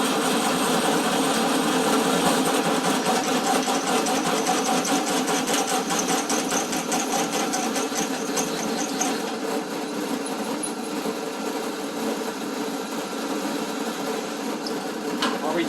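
A drill bores holes for 5/8 studs through 8.8 axles with a steady, high-pitched whine that holds loud and constant throughout, with a slight change in tone partway through.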